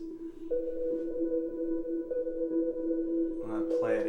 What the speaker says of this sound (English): It's a preset. It's called Ambient Plucks from this. It's a Seven Skies set,